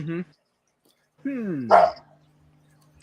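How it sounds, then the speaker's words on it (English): A pug dog gives a short bark, then a longer whining, yelping bark run, nearby, with quiet gaps between. "I have a pug, yes, and she's being a little naughty."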